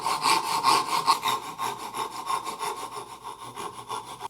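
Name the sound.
narrow-kerf hand saw sawing a wooden dovetail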